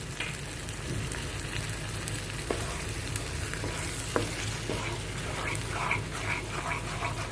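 Yogurt added to hot oil for paneer masala gravy sizzles and fries steadily, a dense continuous crackle close up with a few sharp pops, and faint thuds of stirring underneath.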